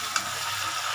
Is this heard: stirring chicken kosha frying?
yes